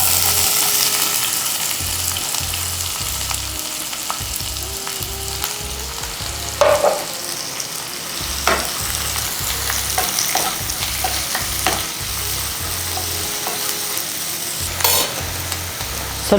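Onions frying in a pan for palak chicken, a continuous close sizzle broken by repeated scraping stirs and occasional clinks of the spoon, with no one speaking.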